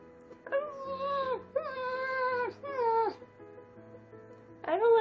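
A person imitates a howl, doing pet play in a hoodie. Three long wavering, moaning howls run back to back, and a fourth starts near the end. They sound close and fairly quiet, with no speech.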